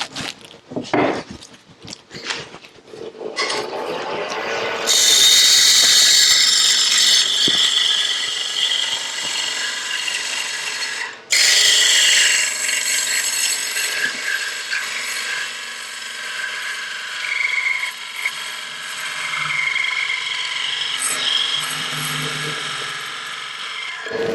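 Wood lathe turning a lidded box, the tool cutting away material for a tenon with loud, scraping, chattering bursts that start and stop, a brief pause midway, then continued steady cutting.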